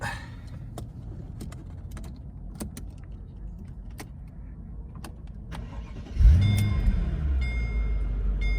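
A 2003 Mercedes SL500 with a 5-liter V8 starts up after several faint clicks and ticks, the engine catching with a loud low rumble and settling into a steady idle close by.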